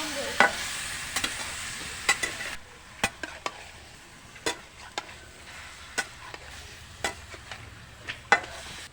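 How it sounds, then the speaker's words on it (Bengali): Chicken pieces frying in oil in a pan, a soft background sizzle broken by repeated sharp clinks and scrapes of a spoon stirring, fairly quiet and close. "তেল দিয়ে ভাজছি"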